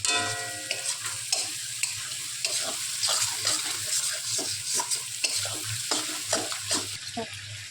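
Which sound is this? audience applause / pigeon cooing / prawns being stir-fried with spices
prawns being stir-fried with spices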